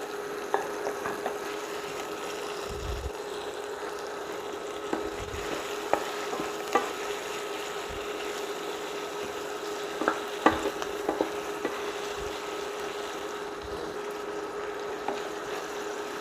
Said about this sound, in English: You got to allow the chili to cook first before you add the prawns.